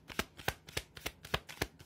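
A deck of tarot cards is shuffled in a quick riffle, roughly seven crisp close flutters in under two seconds, quiet and with no talking.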